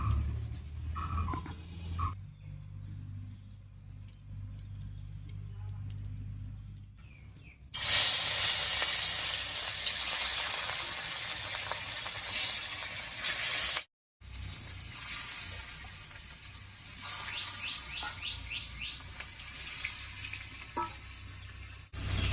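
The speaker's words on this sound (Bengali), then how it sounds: "এবারে কড়াইয়ে সর্ষের তেল দিয়ে খুব সুন্দর করে মাছগুলো ভেজে নেব।" Rohu fish pieces, coated with turmeric and salt, frying in mustard oil in a wok: a quiet start, then a loud steady hiss and sizzle from about eight seconds on, with brief stirring and a short break near fourteen seconds.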